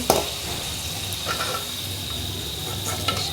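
Okra kurkure frying in a pan, giving a steady close sizzle with a few light clicks and stirring scrapes scattered through it and no talking.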